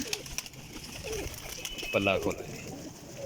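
A female Lal Pari pigeon coos softly nearby while someone talks over it, with a brief louder burst midway.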